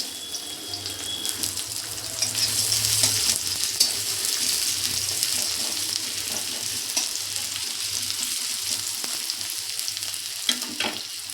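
Sliced onion fries in hot oil for chow mein, a steady close sizzle with occasional stirring scrapes running throughout, with no talking.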